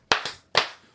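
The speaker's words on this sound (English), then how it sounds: "2 claps and Ric Flair" Two sharp hand claps ring out close and loud, the first a quick double-hit and the second a single crack about half a second later, each with a short decaying tail.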